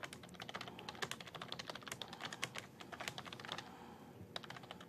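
Rapid, uneven clatter of keys on a computer keyboard while a SQL statement is entered, steady close-up key strikes with brief pauses and no voice over them.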